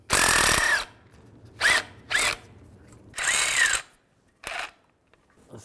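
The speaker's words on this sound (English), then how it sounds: "Now I'm going to take these 3 nuts out. I'm going to use a 13mm socket." Nuts come off a 2007-2013 Mini Cooper S with a 13 mm socket on a power tool, a series of short loud whirring bursts with rising pitch, separated by quiet gaps, close and without speech.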